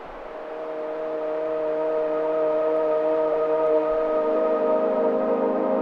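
Noise layer from an Omnisphere 3 synth patch: a sustained, breathy pad with steady tonal bands, swelling in over the first couple of seconds and then holding loud and constant.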